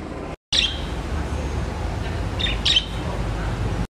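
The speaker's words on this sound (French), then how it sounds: "Elle nous a ramené 3 perruches." Three parakeets give a few sharp, high squawks and chirps, one near the start and a quick pair later, over a steady low indoor rumble, with no one speaking.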